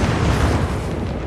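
A dense, rumbling bomb blast from the stop-motion film Guillermo del Toro's Pinocchio fills the whole moment, a loud, continuous boom without any talk.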